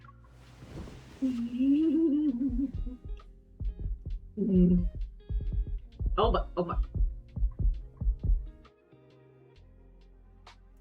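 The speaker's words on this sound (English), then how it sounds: "His rhythmic heartbeat tickles my palm like a feather." A steady, rhythmic heartbeat thumps low beneath a person talking and reacting during a romantic scene in the Love and Deepspace video game.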